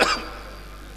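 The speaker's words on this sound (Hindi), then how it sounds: "मेरे को खांसी चल रही है" A single cough from a man performing at a Hindi poetry gathering on stage, a sharp burst at the very start that quickly fades into quiet room tone.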